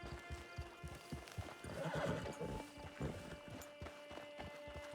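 A horse in Red Dead Online clip-clops along in a steady rhythmic hoofbeat and gives a clear whinny partway through, the sounds close and distinct without any talk.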